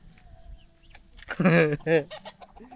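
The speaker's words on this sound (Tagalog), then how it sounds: "Ang dami na dito manok. Ang dami manok." Chickens cluck in a bunch on what sounds like a farm or yard, with short bursts of clucking rising loudest toward the middle, plus scattered background noise.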